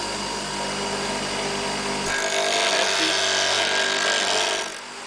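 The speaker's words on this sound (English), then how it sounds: "I hold my hand on the grinder while holding the drill bit in the" Bench grinder sharpening a twist drill bit held in a Bielo drill sharpening arm, a loud continuous whine with a harsher gritty grinding stretch in the middle as the bit meets the wheel, close up and without speech.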